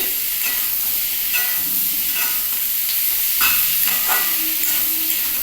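Small potato pieces fry in hot oil for a jackfruit-seed curry, a loud continuous close sizzle and hiss with occasional stirring scrapes running through it.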